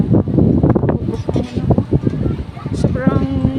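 Blustery wind buffets the microphone in low rumbling gusts while a person talks over it, on an open rooftop deck at a mall.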